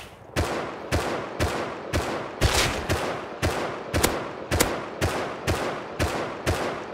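Steady semi-automatic gunfire from a video game shootout, a dozen evenly spaced sharp shots cracking out about every half second, loud and close with no talk.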